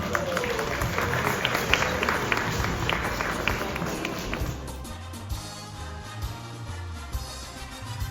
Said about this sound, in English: Please give them a round of applause for His Excellency Mr. Bilal and our young stars